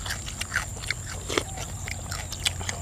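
Crunchy, spicy Thai pounded salad is bitten and chewed close to the mic, with a steady run of small crisp crunches over a constant low background hum.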